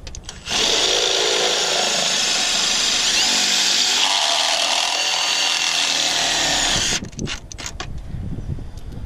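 A power drill drives a screw into a whirlybird roof vent, a loud steady whir that holds for about six seconds before stopping, followed by a few faint knocks and handling sounds.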